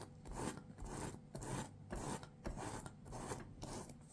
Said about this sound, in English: to sandpaper it